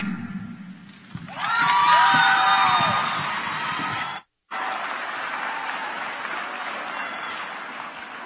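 Audience applauding and cheering students at an opening plenary of a school technology conference, a loud sustained crowd clapping that swells then briefly cuts out before continuing.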